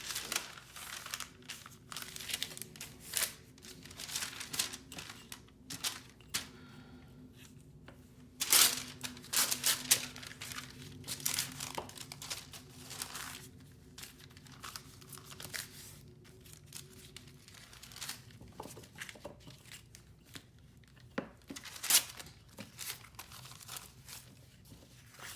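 Sheets of typewriting paper handled, shuffled and crumpled for making scrappy notepads, a long run of close, dry crinkling and rustling bursts with occasional sharper crunches, irregular and busy throughout.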